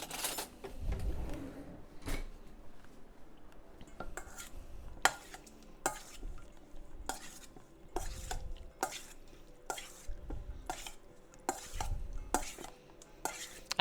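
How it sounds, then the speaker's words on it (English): A spoon stirs a mixture in a bowl with a string of short, sharp clinks and scrapes against the sides. It is fairly quiet and regular, and a soft rustle of low-pitched movement comes in between. "Let's get a spoon to mix this up."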